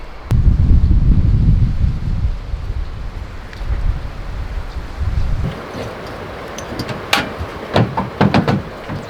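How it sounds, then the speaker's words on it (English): Strong gusting wind at a riverside camp along the Salt River in the Arizona desert, buffeting the microphone with heavy, low roaring bursts that ease and return, with light rustling and a few sharp knocks near the end. "So the wind's really strong today"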